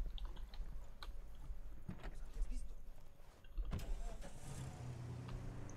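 A car drives up in the video game Ghost Recon Wildlands, its engine rumbling low and steady with a louder swell partway through, while players talk over it.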